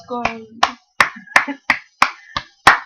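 A single person claps hands near a goat, giving a rapid series of about seven sharp, loud claps at a roughly even rhythm. A brief voice is heard near the start.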